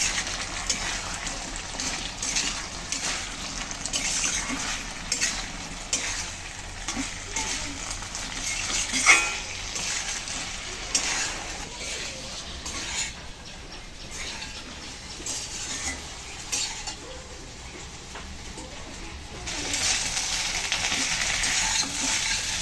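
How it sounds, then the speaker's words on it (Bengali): Fried potatoes and soybean chunks sautéed with spices in an oily pan give a steady, close sizzle with a light rain-like hiss, broken by occasional scraping stirs, over about twenty seconds with no one speaking. "সয়াবিন আবার সুন্দর করে একটু কষিয়ে নেব।"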